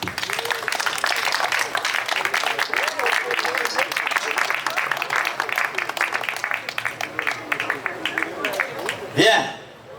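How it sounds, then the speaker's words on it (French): Guests at a customary wedding in Gabon applaud steadily for about nine seconds, with voices talking over the sustained clapping before it stops. "Ils avaient envie d'applaudir depuis longtemps."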